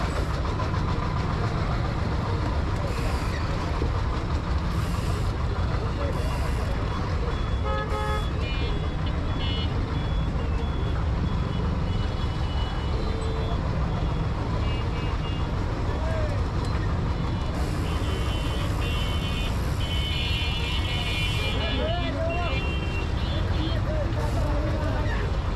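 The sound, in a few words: traffic jam on a Dhaka city road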